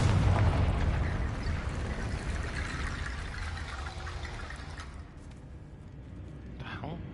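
A Confringo fire spell blast in Hogwarts Legacy on PS5, a loud rumbling burst that fades over several seconds into quieter crackling debris.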